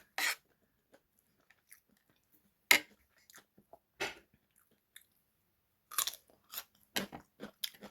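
Someone chews very crunchy food up close, with sharp, sparse crunching bursts separated by quiet pauses, then quickening into a cluster of bites toward the end.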